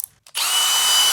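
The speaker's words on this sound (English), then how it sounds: "Alright, this chassis is surprisingly easy to drill." A power drill bores a hole through a metal chassis during a rebuild, a short tap followed by a loud, steady high whine that holds for nearly a second, close up and alone.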